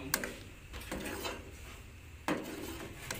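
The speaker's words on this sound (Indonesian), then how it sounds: "Kita aduk." A spoon clinks and scrapes against a pot or glass while homemade herbal jamu, a cold and cough remedy drink, is stirred, with a few sharp metallic taps standing out over soft, steady scraping.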